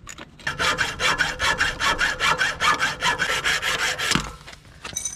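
Hand saw cutting straight through a solid part while fitting a hose on an El Camino, steady back-and-forth rasping strokes in an even rhythm for about four seconds, close and fairly loud, then stopping.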